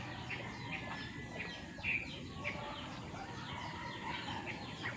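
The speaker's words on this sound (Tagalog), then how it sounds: "Ito barako yun." A barako rooster gives a few faint clucks and short calls against a soft background hiss, fairly quiet and intermittent.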